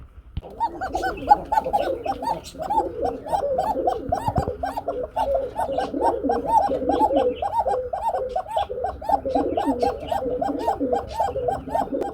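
Large Baghdadi pigeons coo continuously in a rolling, repeated chorus of low throaty calls, close by and steady throughout.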